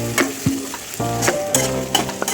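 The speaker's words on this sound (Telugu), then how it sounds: "ఆనియన్ వేసుకోవాలి, కొంచెం పుదీనా కూడా వేసేసుకొని మంచిగా ఫ్రై చేసుకోవాలి" Onion and mint frying in hot oil in a pan, a steady close sizzle broken by several scraping stirs, with no talking.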